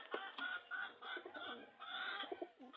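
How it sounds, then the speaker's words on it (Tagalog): Pigeons kept in a home loft, giving soft cooing and low clucking calls in a continuous close chorus with no talking over them. "Dito ating mga kalapati."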